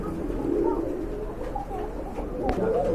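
Pigeons cooing among a pair of birds at a market stall, soft low murmuring coos repeating unevenly over a busy background hum, with a brief sharper sound near the end.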